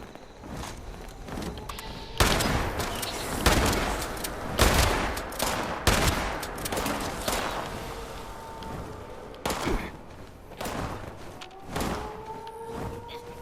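Gunfire in the Fallout 76 video game: repeated bursts of shots and heavy thumps through a loud firefight, with overlapping volleys and short pauses between them.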